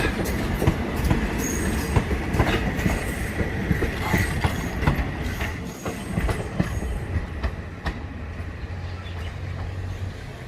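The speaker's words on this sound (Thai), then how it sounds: "ตอนนี้รถไฟก็ได้ออกจากสถานีนครลำปางเป็นที่เรียบร้อยแล้วนะครับ" A Thai express passenger train, number 9051, leaving Nakhon Lampang station rumbles along the rails with rhythmic clickety-clack and occasional wheel squeal, a continuous loud rolling noise from inside the carriage.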